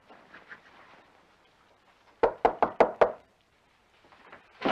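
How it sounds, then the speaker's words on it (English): Five sharp knocks on a door in a quick even series, close and loud, after some quiet muffled voices and before another voice comes in. "I was just gonna knock."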